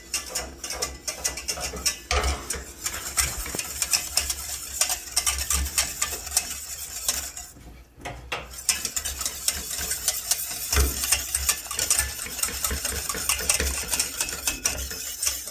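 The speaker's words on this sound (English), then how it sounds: "whisk the two together on and off the heat" A whisk scrapes and ticks steadily against a pan as butter is beaten into a beurre blanc sauce, on and off the heat, a close, continuous metallic rattle with a brief pause midway.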